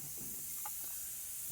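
A Tornador air-powered cleaning tool sprays cleaner onto car seats during interior detailing. It makes a steady, soft hiss that runs the whole time, with a few faint clicks and no talking.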